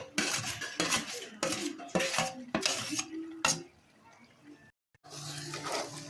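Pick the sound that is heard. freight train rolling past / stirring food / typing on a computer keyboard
stirring food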